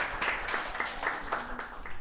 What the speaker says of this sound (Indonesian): Tepuk tangan untuk Naufal dulu ya